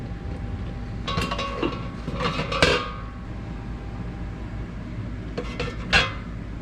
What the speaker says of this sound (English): Now I'm going to put the eggs into the strainer basket.